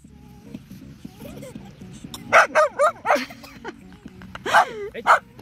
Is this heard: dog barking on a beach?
yes